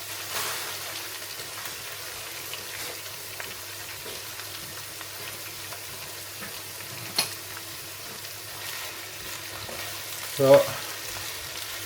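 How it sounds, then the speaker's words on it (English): Spinach sautéing in a pan for a baked chimichanga filling, giving a soft, steady sizzle close by that runs throughout, with a couple of brief clatters from stirring and a single spoken word. "I'm just going to saute these. So yeah, until they soften down."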